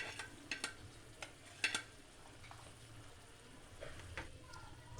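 Ginger garlic paste fries quietly in a pan for chicken kofta gravy, a low soft sizzle under several sharp clinks and scrapes of a spoon stirring against the metal.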